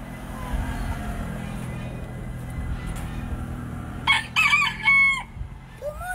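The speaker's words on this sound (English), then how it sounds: "Cock-a-doodle-doo." A rooster on a farm crows once near the end, a loud, close cock-a-doodle-doo following a low rumbling background.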